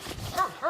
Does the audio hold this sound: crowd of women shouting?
no